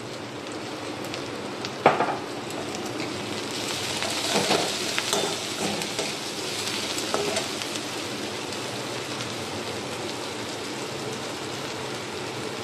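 Ginger and garlic frying in a pan for restaurant-style palak paneer make a steady, close crackling sizzle, with a brief louder stir or scrape near the start and a few more soft stirring knocks, and no talk.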